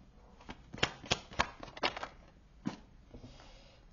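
Tarot cards are drawn and handled close by, giving a quiet run of soft flicks and slides with several sharp snaps in the first two seconds and a few lighter touches after.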